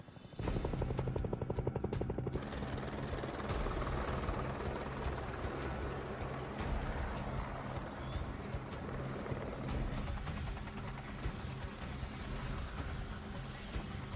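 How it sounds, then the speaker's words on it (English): A helicopter arrives with a loud, steady rotor thump and engine roar that holds for the full length of the clip, near and dominant, with no talk over it. "Oh, I hear the helicopter now."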